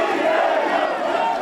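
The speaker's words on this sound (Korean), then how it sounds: "이낙연 후보 지지자들이 화천대유를 외칩니다" Supporters at a Democratic Party primary rally venue in Jeju loudly chant a slogan together, and the crowd's roar stays dense and sustained throughout the short clip.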